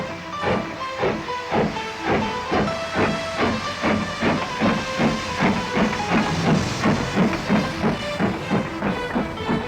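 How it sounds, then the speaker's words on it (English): A steam train on a heritage railway near Oakworth and Haworth chuffs in a steady rapid rhythm of hissing exhaust beats, loud and close, with no voices. "the train passes a heavily wooded curve, then over a short bridge and into Mythholm's Tunnel."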